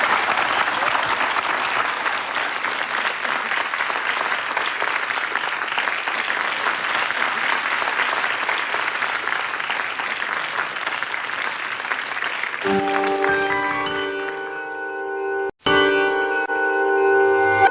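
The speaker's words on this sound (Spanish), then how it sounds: "Muchas gracias y un aplauso para los chicos." Studio audience applause after a televised literature class, dense and steady for about twelve seconds before giving way to a bright chiming musical sting.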